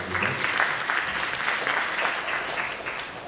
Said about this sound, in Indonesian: Kita beri aplaus untuk kita.